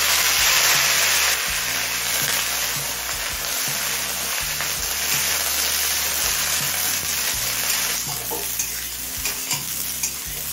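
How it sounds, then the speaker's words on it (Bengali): Eggplant and spring onion frying with potatoes in a pan make a loud, continuous sizzle, with close scraping and stirring sounds running through it. "এবার পেঁয়াজ কলি আর বেগুনটা দিয়ে দিচ্ছি"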